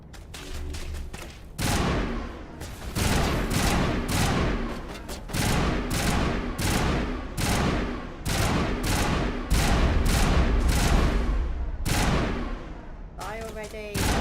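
Rapid, loud bursts of gunfire from the sci-fi shooter game Mass Effect Legendary Edition, repeated shots hammering in quick succession for over ten seconds with short gaps, a continuous heavy firefight.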